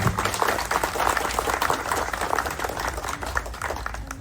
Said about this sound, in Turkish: Onlara bir alkış rica ediyorum